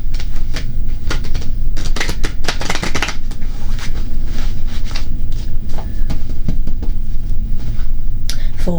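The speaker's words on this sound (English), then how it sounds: "I'm going to do one more shuffle" Tarot cards are shuffled by hand in a fast run of crisp riffles and slaps, close and loud, repeating continuously for several seconds without talk.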